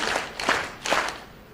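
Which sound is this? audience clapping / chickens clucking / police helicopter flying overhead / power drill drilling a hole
audience clapping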